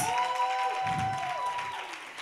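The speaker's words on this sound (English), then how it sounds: "can we get another round of applause for the first two awardees?" A brunch awards crowd gives a round of applause for the honorees, steady clapping with light cheering, while a thin sustained tone runs beneath it.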